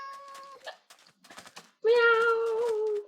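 A cat lets out a short meow, then a longer, louder drawn-out meow after some faint rustling.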